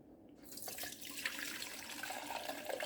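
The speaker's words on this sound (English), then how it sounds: "we're going to go ahead and grab our container and pour the brine off into the sieve" Brine from fermented ghost pepper and habanero peppers poured from a container into a sieve, a steady close splashing trickle that starts abruptly and runs on, quiet and without talk.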